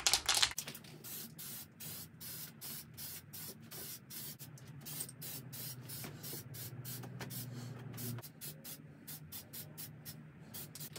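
Primer spray-painted onto the underside of a piece, a rapid series of short, close hissing bursts from the spray can, loud at first and then steady over quiet room noise.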